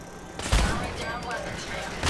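A short burst of gunfire in the video game Fallout 4, a sharp close shot followed by rapid rattling reports, with a voice heard briefly.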